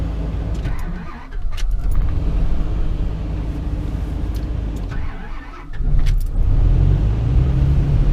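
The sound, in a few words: Dodge V10 truck engine starting up on wood gas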